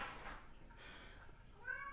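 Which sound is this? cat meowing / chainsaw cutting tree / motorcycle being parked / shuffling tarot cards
cat meowing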